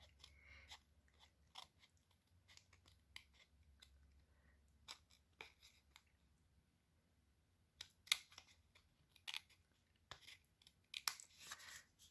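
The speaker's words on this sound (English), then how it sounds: "So I'm gonna bring my paper snips in and I'm gonna trim that up so I don't see any white." Paper snips make small, crisp cuts as they trim the edge of cardstock, a few close snips spaced apart, growing busier near the end, in a quiet room.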